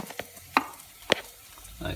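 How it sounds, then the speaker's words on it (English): A knife chopping mushrooms, a few sharp separate cuts landing on a board, fairly faint and close, with a low kitchen hum behind and no talk. "going to chop my mushrooms up"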